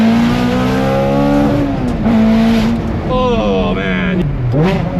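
A Ferrari F430 with an F1 straight-pipe, cat-delete exhaust revs hard and close, its loud, high, rising and falling engine tone wavering through several throttle blips, with a man's excited exclamation over it.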